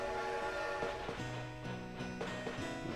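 Train ride in the video game Animal Crossing, with a steady rolling rumble and sustained tonal whistle-like chords that shift pitch, continuous and fairly loud with no talking.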